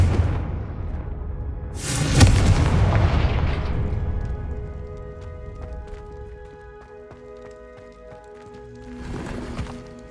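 A Confringo fire spell from the Hogwarts Legacy video game bursts as a loud booming explosion with a roaring tail that fades over several seconds, followed later by a second, softer rumbling burst.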